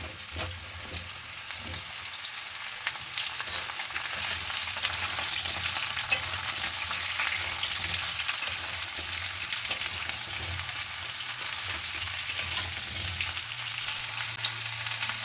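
Chopped bottle gourd tipped into a hot spiced tempering for a village-style fish curry sizzles steadily in oil, with intermittent scraping and stirring strokes across the pan, close and continuous without talk.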